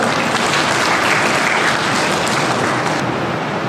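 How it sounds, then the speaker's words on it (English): Loud, dense applause from a large crowd at a school debate fills the space continuously, a steady roar of many hands clapping at once. "Please give a huge round of applause."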